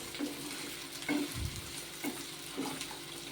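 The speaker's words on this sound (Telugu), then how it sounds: "మునక్కాయలు నూనెలో ఫ్రై అయితే బాగుంటుంది టేస్ట్" Drumstick pieces frying in oil give a soft, even sizzle close by, with a few light stirring knocks and scrapes at roughly regular intervals, fairly quiet overall.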